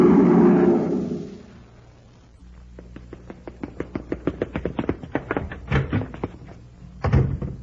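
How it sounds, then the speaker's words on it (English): A door is thrown open and shut in an old-time radio drama as someone rushes out, heard as a rapid run of close knocks and thumps with a heavier bang near the end. "Just Danny Fields rushing out the door to the grocery."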